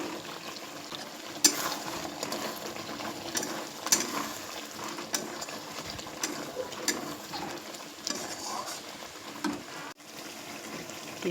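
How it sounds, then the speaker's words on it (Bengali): Fried pointed gourd being stir-fried in oil with yogurt in a wok, a steady soft sizzle with scattered scraping and clinking from stirring, close and continuous without talk. "এবার আমি ভেজে রাখা পটলগুলো দিয়ে দেব। পটলটা দিয়েও কিছুক্ষণ কষিয়ে নেব।"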